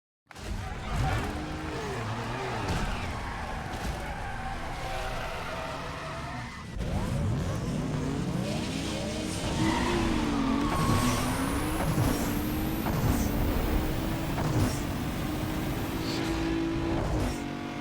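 Mitsubishi 3000GT 3.0L twin-turbo V6 drag racing in Need for Speed, with a steady engine roar that revs through gear changes, tires squealing on launch and rival cars audible alongside, loud and continuous.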